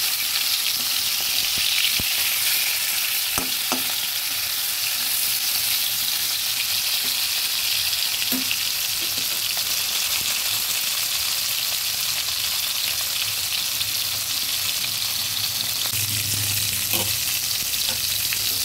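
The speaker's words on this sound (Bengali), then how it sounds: "উল্টে পাল্টে মাছগুলো ভেজে নিয়েছি" Rohu fish pieces frying in hot oil in a kadai while being turned, a strong steady sizzle with occasional sharp ticks and clinks, close up and with no speech.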